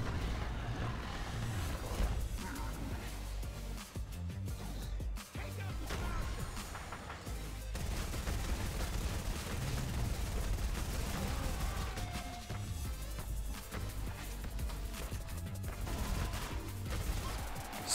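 Bobcat assault rifle in Fortnite Save the World fires in dense, rapid bursts, a loud continuous clatter of shots that runs almost unbroken, with only brief gaps, against a busy game soundscape.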